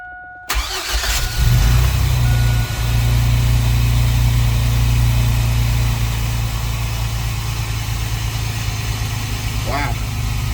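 A Chevy Astro 4x4 van engine, fitted with a newly installed distributor, cranks briefly and catches, then settles into a steady, loud, close idle. A voice speaks over the running engine.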